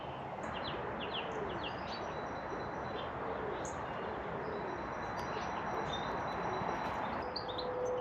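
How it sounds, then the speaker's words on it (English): Small songbirds, blue tits, chaffinches and goldfinches, chirp and call in a churchyard, scattered brief notes spread over a steady broad hiss of outdoor background noise, no voices. "Just up there I can see and hear blue-tits, chaffinches and goldfinches."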